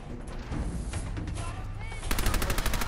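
Tommy Gun in Fallout 4 firing rapid automatic bursts, dense rattling gunfire throughout that grows more intense and sharply rhythmic in the last second, mixed with game sounds.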